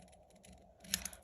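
Scissors snip through parts of a Rolife DIY miniature flower house kit, with faint handling noise followed by two short, sharp, close cuts near the end.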